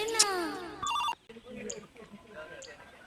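A phone rings during a Maithili comedy sketch, giving a bright electronic ring followed by a few short beeps, with people talking around it.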